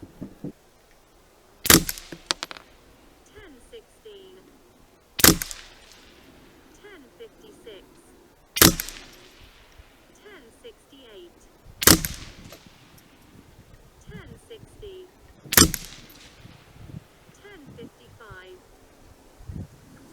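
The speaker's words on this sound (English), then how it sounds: "I think we're gonna shoot 5 or 6 groups, and then we're gonna measure the average." SK .22LR rifle fired at an outdoor shooting range during accuracy testing, five sharp cracks spaced roughly three to four seconds apart, each standing out clearly against faint background rustling and quiet movement.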